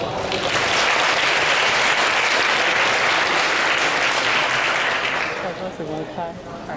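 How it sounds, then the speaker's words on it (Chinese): An indoor audience at a tech conference claps warmly to welcome a speaker to the stage: steady, dense applause for about five seconds that then tapers off, with some voices near the end. "让我们以热烈的掌声来欢迎罗国华先生。"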